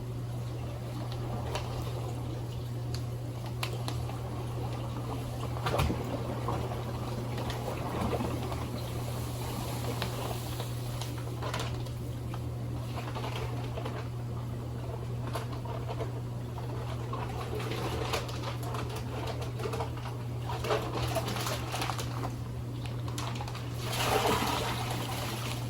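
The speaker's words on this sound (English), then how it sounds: "it is now continuing to fill up with water" Clean water from a hose pours into a saltwater aquarium as a steady, continuous trickle and splash, sitting over a constant low electrical hum with no talk.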